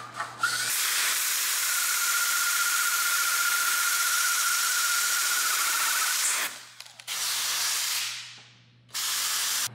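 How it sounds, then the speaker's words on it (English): A 1/4-inch collared bit drills holes in a Corian solid surface countertop while an air hose blows dust away: a loud steady high hiss and whine that cuts out briefly twice, then resumes. "I'm going to drill these holes with a 1/4-inch bit with a collar, same size as the brass insert."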